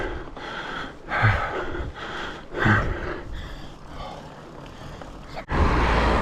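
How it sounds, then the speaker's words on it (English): Heavy, labored breathing after a steep bike ride, close to the microphone, with a few loud gasping breaths in slow rhythm and a burst of wind noise near the end. "Excuse the heavy breathing."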